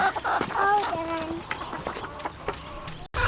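Backyard chickens clucking and squawking nearby in a yard, several overlapping short calls and cackles in uneven bursts, fairly close, with a voice briefly mixed in.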